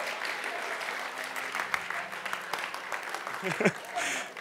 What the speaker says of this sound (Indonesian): tepuk tangannya suam-suam ya